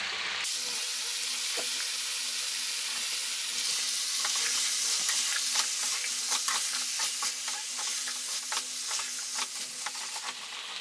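Cubed potatoes frying in a pan for chicken lotpoti: a steady close sizzle with scattered clinks and scrapes of stirring throughout, no talking.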